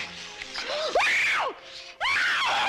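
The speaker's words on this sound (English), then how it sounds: "Stop screaming!" A woman screams in a classic Western TV drama, loud and close, in a few rising and falling wails with short breaks between them.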